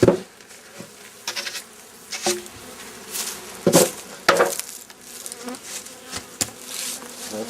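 Honeybees buzz loudly and continuously around an open hive during a spring hive inspection, mixed with scattered knocks and clatters from the hive equipment.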